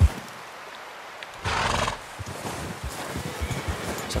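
A horse in Red Dead Redemption 2 lets out a loud whinny in the middle, surrounded by soft hoof clops and shuffling movement, with no talking.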